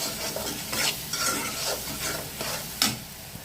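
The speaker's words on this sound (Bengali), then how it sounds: "মশলাটা একটু কষাই নিচ্ছি ভালো করে" A spatula stirs and scrapes spice paste with added water and garam masala in a pan for liver curry, giving several distinct scraping strokes over a soft frying sizzle, close and clear.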